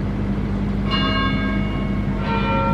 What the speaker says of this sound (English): St. Giles chiming away.